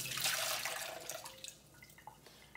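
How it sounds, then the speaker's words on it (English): Hot soaking water drains from softened kelp noodles, a short close splash and pour that fades into a few scattered drips over about two seconds. "now what I'm going to do is drain the water."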